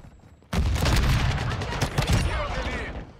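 A sudden loud blast from a Semtex grenade in Call of Duty Modern Warfare 2 multiplayer, followed by a sustained roar of gunfire and debris that slowly fades.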